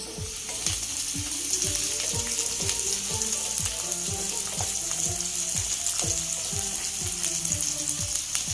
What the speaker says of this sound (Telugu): చూడండి ఈ ఉల్లిపాయలు వేగుతున్నాయి కదా